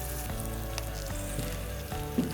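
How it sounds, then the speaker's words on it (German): Oven-roasted tomatoes just pulled from the oven sizzle and crackle steadily in their hot pan, a close, continuous frying hiss with small pops, no voices over it. "Hört euch das mal an, wie das schön brutzelt."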